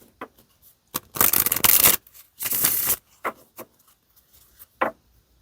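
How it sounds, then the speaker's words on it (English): A tarot deck being shuffled by hand, with two sustained riffling bursts flanked by soft taps and card flicks, close and clear with no talking. "All right, one more shuffle."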